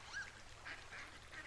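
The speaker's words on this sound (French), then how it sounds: "le chant des merles et des canards" Ducks calling beside a forest river in the Firewatch video game: a few faint, short nasal quacks spaced through a quiet outdoor ambience.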